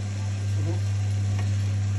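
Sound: oyster mushrooms frying in a pan

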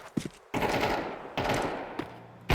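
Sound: gunfire in a shooter video game

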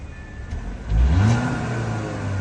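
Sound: Audi A5 2021 engine revving on throttle

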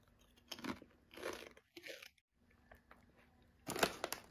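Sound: biting and chewing an onion-flavoured supermarket product

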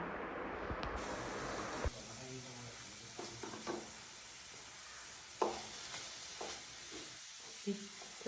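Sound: onions with salt being sautéed in a pan

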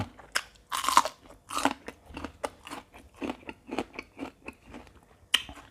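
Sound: crunchy eating of crispy fried fish with papaya salad

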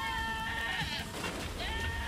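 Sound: sheep bleating in the video game Albert & Otto

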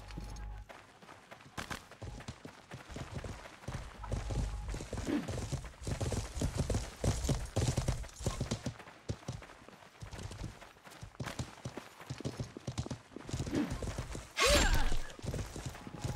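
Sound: horse hooves clip-clopping in the video game Life is Feudal

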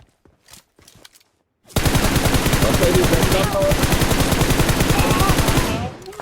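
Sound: gunfire in PUBG Mobile video game

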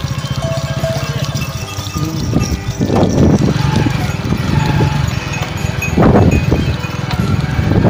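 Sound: flock of sheep walking by

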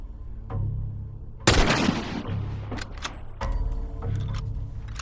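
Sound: gunfire in video game The Last of Us

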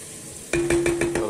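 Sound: paprika frying in a pan while being stirred

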